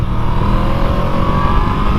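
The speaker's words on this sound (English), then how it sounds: "V4 engine, man, it absolutely flies." A Yamaha VMAX V4 motorcycle accelerates hard on an open road, a loud, continuous, roaring engine note pulling strongly with no voices over it.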